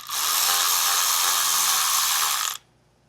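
A hex-bit ratchet tightens 3/16 steering system bolts on a Jeep Wrangler JK Rubicon, giving one loud, continuous whirring clicking burst for about two and a half seconds before stopping abruptly.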